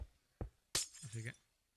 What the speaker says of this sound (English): Do not break that glass as I just did.